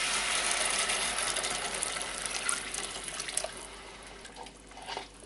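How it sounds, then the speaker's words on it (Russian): Water poured into a pan of frying meatballs with carrot and tomato paste, a splashing pour that sizzles and fades over a few seconds. "Наливаем воду."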